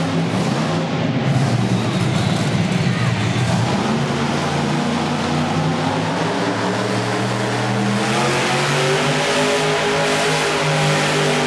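A monster truck's engine roars loud and continuous while the truck spins a donut during a freestyle run at a Toughest Monster Truck event in Youngstown, Ohio, its pitch climbing and sweeping as the throttle stays open.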